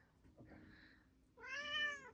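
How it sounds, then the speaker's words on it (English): A cat meows softly, first a faint drawn-out cry, then a louder, clearer meow close by in a quiet room. "He's just meowing."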